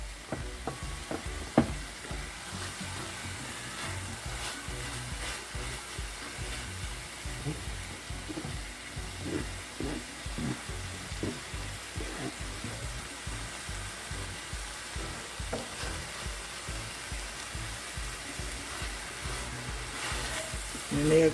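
Cabbage and soup base seasoning being stirred in a hot pan make a steady close sizzle and hiss, broken by irregular scraping and clacking strokes, with no voices.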